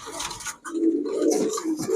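A pigeon gives a brief, soft, throaty coo up close, a low rolling murmur that lasts about a second and a half after a short pause.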